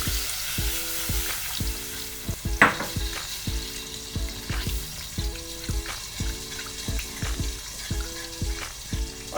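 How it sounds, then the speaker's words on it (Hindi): A spoon stirs red and white sauce in a pan for chicken pasta, giving a steady close sizzle with scraping strokes over a repeating tonal music pattern. "और चम्मच जो है बराबर हिलाते जाएंगे"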